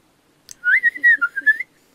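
A person whistles a short, bright melodic phrase of several quick connected notes, close and clear against near silence.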